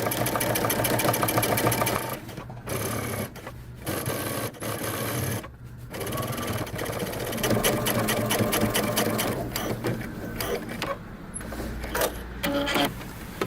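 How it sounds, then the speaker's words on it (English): Sewing machine topstitching denim jeans close to the edge, a loud rapid mechanical whir running in bursts with brief pauses between stitching runs, close and alone with no talking. "Top stitch close to the edge."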